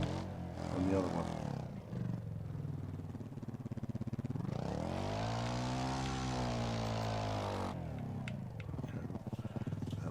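A motorbike engine in the racing game Overpass revs and roars steadily, swelling into a higher sustained whine midway before settling back, loud and continuous throughout.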